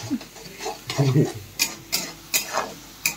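Potatoes for sabudana khichdi get stirred in a pan, giving soft scraping and stirring strokes with light clinks of a spoon against the pan, spaced roughly every half second and close by, with a faint background sizzle.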